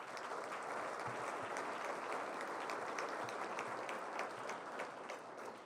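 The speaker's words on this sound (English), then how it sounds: "Can we give them a round of applause?" An audience at a regional State of the Region address breaks into a steady round of applause, dense clapping holding evenly throughout at moderate distance.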